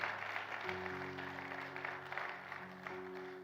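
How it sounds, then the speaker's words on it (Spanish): A church congregation claps in steady, broadband applause while sustained keyboard chords play beneath it. "le da un fuerte aplauso al Señor"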